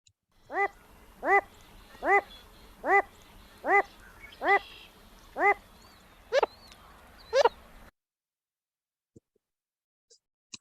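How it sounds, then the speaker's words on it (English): A Wilson's Phalarope gives a light, soft woof-like call repeated about nine times at a steady pace, moderately near, before cutting off into silence. "the Wilson's Phalarope doing that light woof, woof, woof."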